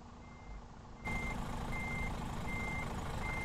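A Scania truck reversing in the mobile game Universal Truck Simulator sounds a steady, evenly spaced series of high beeps over a constant engine hum. The sound grows louder and fuller partway through, and no one speaks.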